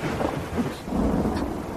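A thunderstorm with rumbling thunder and steady rain near a pond at dusk, the low roll swelling and fading over a couple of seconds against a continuous wash of rainfall.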